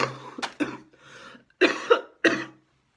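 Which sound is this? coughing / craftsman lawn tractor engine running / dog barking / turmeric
coughing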